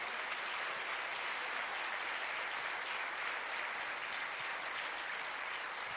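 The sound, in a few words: church congregation applauding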